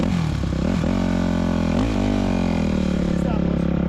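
A motorcycle rides through the Lo Campano neighbourhood of Cartagena, its engine droning steadily and close with a brief rev midway, while a voice talks over it.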